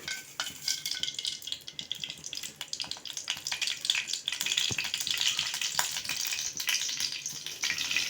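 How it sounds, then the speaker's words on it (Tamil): Mustard seeds splutter and crackle in hot oil, a dense sizzling hiss with scattered sharp pops running steadily throughout, no voices. "எண்ணெய் காய்ந்ததும் கடுகு"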